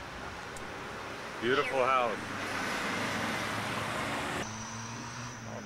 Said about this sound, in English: Busy street.